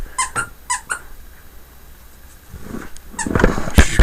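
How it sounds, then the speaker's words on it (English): A dog chews a stuffed toy with a squeaker in its belly, giving several sharp squeaks in quick bursts early on, then rustling and thumping handling noises nearby, with no talking. "Can you guys hear that funny squeaking sound?"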